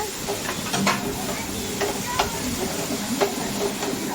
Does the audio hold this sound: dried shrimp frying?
yes